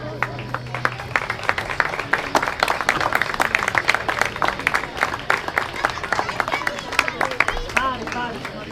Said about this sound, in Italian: e un bel applauso ai due atleti